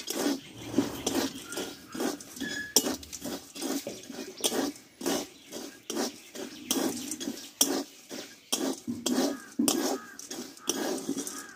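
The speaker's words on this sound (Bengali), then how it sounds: "আমি আবারও দিয়ে দেবো হাতে করে, এইভাবে আবার নাড়তে থাকবো।" Chickpeas roast in a dry pan without oil or sand and are stirred by hand, giving a near, rhythmic run of rattling, scraping strokes that repeats over and over with short gaps between them.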